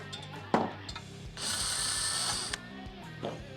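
A ratchet wrench works the 8mm vent support screws on a 2015-or-later Harley Road Glide. Several short clicking bursts are followed by a longer steady ratcheting run, close up with no talking.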